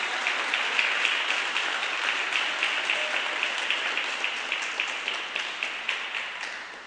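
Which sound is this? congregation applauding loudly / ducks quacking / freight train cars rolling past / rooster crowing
congregation applauding loudly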